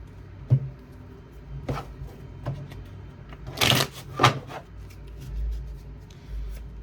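Tarot cards shuffled by hand in a few separate bursts of riffling and rubbing, close and fairly quiet, with a louder flurry midway and a low background rumble near the end.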